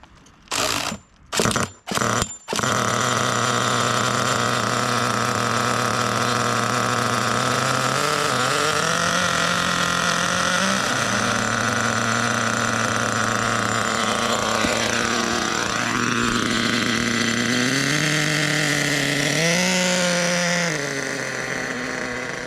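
A nitro Savage RC car engine fires after a few short pull-start bursts, then runs loud and close for the rest of the clip with a buzzing idle and several rising and falling revs.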